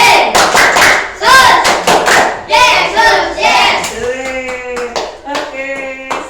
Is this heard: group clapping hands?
yes